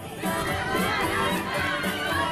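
Spectators at a Maslenitsa festival pancake-eating contest cheer and shout together in a loud, continuous roar, children's voices mixed among the crowd's chatter.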